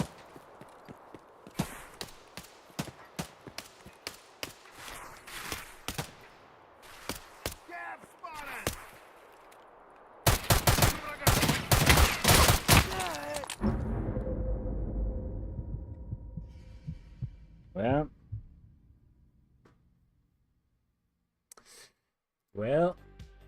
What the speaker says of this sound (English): Are they shooting at the sniper?